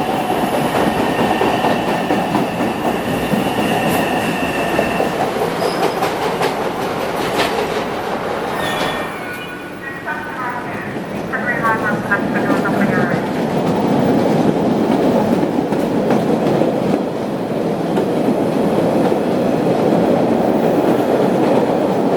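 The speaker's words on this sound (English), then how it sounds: "the train behind the one we were just on is actually a new train" A Boston MBTA Orange Line subway train rumbles steadily along the rails with rhythmic clacking and a brief high squeal of wheels, loud and close throughout.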